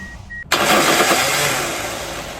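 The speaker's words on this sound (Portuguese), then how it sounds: "Tá aí o Corolla 2003 automático com problema de motor de partida." A 2003 Toyota Corolla automatic with a faulty starter motor cranks: after a brief quiet tone, a loud harsh grinding and whirring bursts in and continues, then eases slightly as the engine runs, with no talking.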